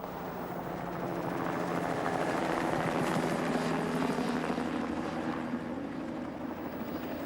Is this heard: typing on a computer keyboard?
no